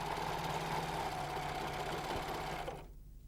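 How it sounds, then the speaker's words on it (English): A Janome 6234XL overlocker with a piping foot sews piping cord, its fast steady mechanical hum running continuously and close before cutting off just before the end. "Now you can sew, guiding the cord underneath the groove."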